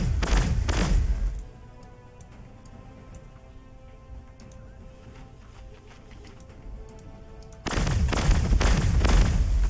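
Gunshots in the Warhammer 40k: Gladius strategy game, heavy booming volleys at the start and end framing a quieter stretch of faint ticking clicks.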